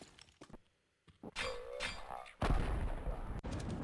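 In a Counter-Strike match on the Overpass map, a thrown grenade bursts into a sharp, loud explosion partway through, after quieter metallic clinks and game effects in a professional esports broadcast.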